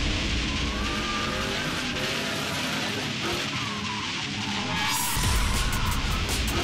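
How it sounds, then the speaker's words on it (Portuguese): Race cars driving fast on an outdoor circuit, engines roaring loudly and continuously throughout, with a brief tire squeal and a sharper, nearer engine burst near the end. "Na parte externa do circuito, os carros podem chegar até mais de 100 km por hora."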